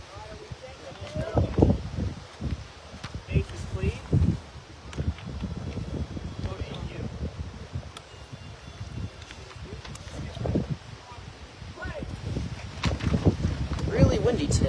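Heavy wind buffets the microphone in low rumbling gusts throughout a beep baseball game, with muffled voices and background activity underneath.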